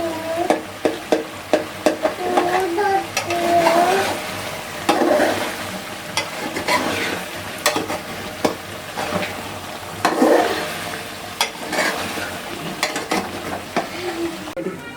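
Butter chicken roasts in butter in a karahi for a chicken makhni karahi, with a continuous close sizzle and intermittent stirring scrapes and clinks, no talking.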